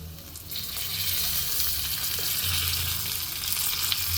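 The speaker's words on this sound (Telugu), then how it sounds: "ఇందులోనే కొంచెం కరేపాకు వేస్తున్నాను" Curry leaves crackle and sizzle in hot oil in a pan while making a puffed rice masala mixture: a steady, close frying hiss that holds throughout without a break.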